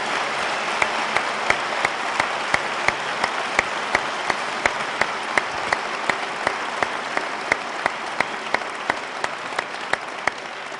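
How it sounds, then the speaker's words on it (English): Audience applause for two debaters at a 2009 debate event, a steady, dense clapping throughout with sharp individual claps standing out, fairly close and sustained without talk. "A round of applause for both gentlemen"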